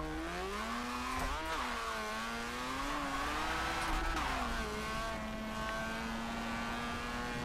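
A Mazda RX-7 FC held at full throttle in Forza 7, its engine note loud, close and steady with harmonic tones rising and dipping through shifts, tire noise underneath, and no talk.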